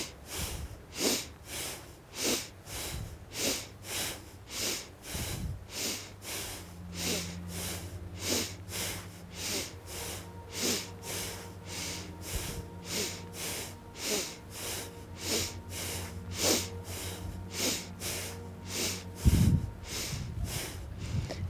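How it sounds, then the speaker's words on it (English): Steady yoga breathing, a long series of rhythmic inhales and exhales through the nose at close range with a soft low background hum. "inhale center, exhale to the side"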